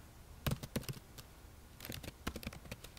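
Keys clack on a computer keyboard close by. An irregular run of taps is followed by a pause and then a quicker cluster of keystrokes, all fairly quiet with no talking.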